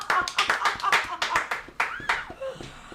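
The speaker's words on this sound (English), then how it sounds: "I think that deserves a round of applause." A small group claps in a quick, uneven burst of sharp, close hand strikes, with light laughter and chatter mixed in as the clapping thins toward the end.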